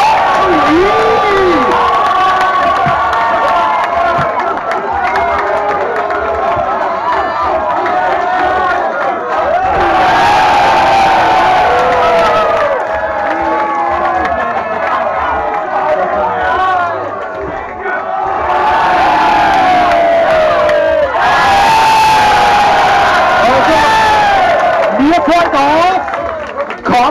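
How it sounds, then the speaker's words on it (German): A wrestling crowd at an Austrian tag-team title match cheers and shouts loudly, with surges of excited roaring and whistles rising and falling while a commentator talks over it. "jubelt das Publikum"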